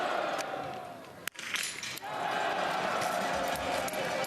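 Home crowd at a women's 15 km individual biathlon race in Östersund, Sweden, a loud, steady roar of cheering with a brief dip and sharp knock midway, under a commentator's voice.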